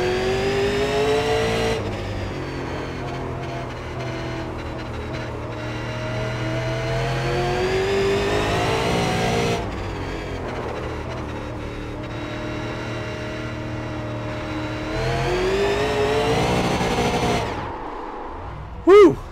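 A Super Late Model race car in the iRacing sim laps steadily, its loud engine droning with rising and falling pitch through each corner and straight. Near the end it cuts to near silence, followed by one brief sharp sound.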